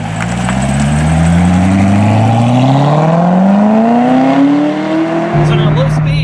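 A Chevrolet Corvette ZR1 on ordinary roads accelerates loudly and close, its engine note climbing steadily in pitch through the gears before dropping at a shift.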